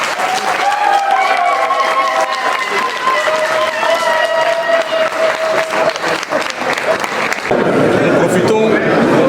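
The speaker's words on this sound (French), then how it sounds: "si vous êtes d'accord, vous acclamez la liste qui a été" A general assembly electing its president by acclamation breaks into loud, sustained applause and crowd cheering, with voices mixed in throughout and a brief swell near the end.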